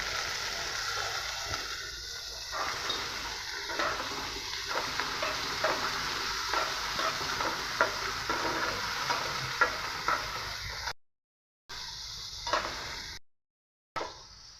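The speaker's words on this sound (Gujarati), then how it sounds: "તેમાં થોડુંક મીઠું એડ કરીને સારી રીતે સાંતળી લેવાનું છે." Chopped onion, tomato and capsicum sauté in a pan with a steady sizzle while a utensil stirs and scrapes through them in repeated strokes, close by, with two brief silent gaps near the end.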